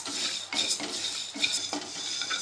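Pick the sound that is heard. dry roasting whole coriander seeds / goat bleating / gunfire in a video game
dry roasting whole coriander seeds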